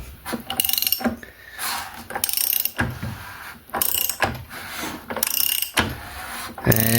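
A Fiat 126 engine, built up tuned for a Fiat 500, is turned over by hand with a ratchet, giving a run of close clicking ratchet strokes and mechanical clatter in uneven bursts, with no talk.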